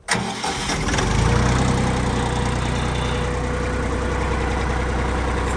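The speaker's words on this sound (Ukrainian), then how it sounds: "трактор починає рухатися разом з валом відбору вращатися" A Jinma 3244 HXRN mini tractor engine cranks and catches, then settles into a steady, close, chugging run with a low rumble that continues to the end.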